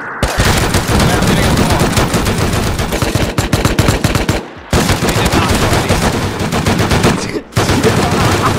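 Dense video-game gunfire on an oil rig map, loud rapid bursts of automatic weapons running almost without pause, broken by two brief gaps, with voices faint underneath.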